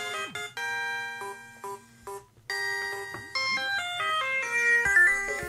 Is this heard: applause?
no